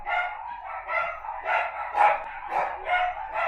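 Several dogs bark in a quick, repeated series of sharp barks and yips, moderately close and continuous across a few seconds, with no talking.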